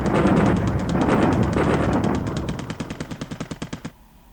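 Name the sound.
air strike gunfire in War in the Pacific video game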